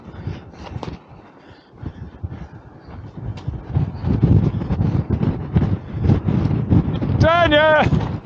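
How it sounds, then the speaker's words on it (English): Strong wind on a mountain hiking trail in Fujairah buffets the microphone with a rough, gusting rumble that builds toward the end, while a person talks and lets out a warbling whoop. "Did I tell you it was windy? Well, hold on to your hats."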